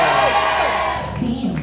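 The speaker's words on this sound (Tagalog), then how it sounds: "pahingi na muna ng isang malakas na sigawan!" A drag race viewing party audience shouts and cheers loudly, a dense close roar of many voices with high whoops that fades slightly toward the end.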